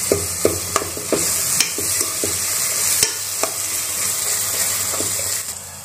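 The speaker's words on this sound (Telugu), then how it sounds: "ఇదిగోండి కూర మగ్గుతుంది కదా," Tomato curry simmering in a pan gives a steady low sizzle, broken by intermittent stirring clicks and scrapes from a spoon. It sounds close and moderately loud throughout.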